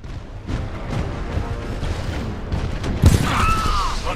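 Gunfire in the Titanfall 2 campaign: rapid rattling bursts of shots mixed with heavy booms and mechanical clanks, loud and dense throughout, with a sharper impact near the end.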